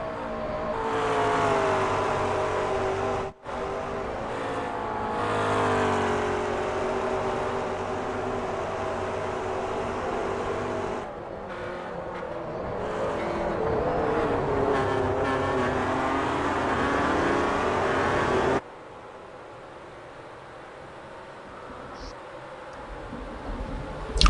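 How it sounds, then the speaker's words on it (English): Race car engines in the rFactor sim racing game at Virginia, a loud sustained engine drone with shifting pitch as cars rev and pass, dropping to a quieter roar near the end. "So, as you can see, a whole gaggle of cars behind P4, car 70, the Radicals car of Anthony Roselli"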